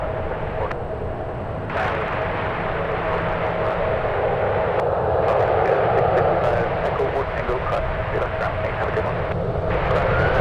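A Boeing 777 taking off from runway 1 right at San Francisco airport, a loud sustained jet engine roar with steady rumble and hiss throughout, close and powerful, and a voice speaking over it.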